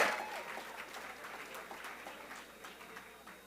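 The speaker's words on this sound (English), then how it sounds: "just give another round of applause to all the contestants tonight" Audience applause at a pitch competition, rewarding the contestants: a dense, steady clatter of many hands clapping in an indoor hall, moderately loud and sustained throughout, with faint voices mixed in.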